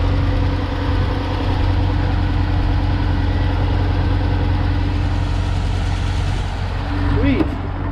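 Chrysler car from a salvage auction idles with a steady, even low rumble and hum close by, holding constant throughout, with a brief voice near the end.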